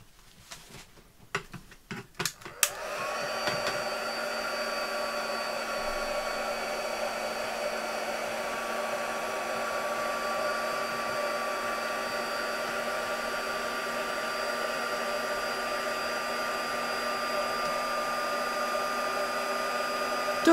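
Handheld hair dryer drying craft paint on an artist trading card: a loud, steady blowing whir starts abruptly after a few brief knocks and clicks, then holds evenly and close for the rest of the clip with no talk.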